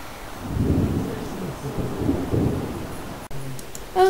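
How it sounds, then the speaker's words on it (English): Heavy rain and rolling thunder in the Sims 3 video game on an island setting, a low rumbling wash that swells and fades over steady rainfall, then cuts off abruptly near the end. "Oh my gosh, it is raining terribly."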